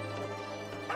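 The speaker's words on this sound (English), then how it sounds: "Oh, he's barking at someone." A dog in the video game Where Winds Meet gives a few short yipping barks, mid-distance over a steady low in-game ambience hum, with one louder yelp at the end.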